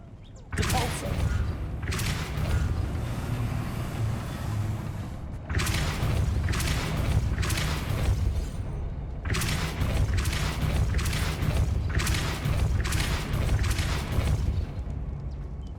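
Repeated booming spell blasts from the Depulso force-push charm in the game Hogwarts Legacy, heavy thuds arriving in two clusters over a constant low rumble, loud and close, with no speech over them.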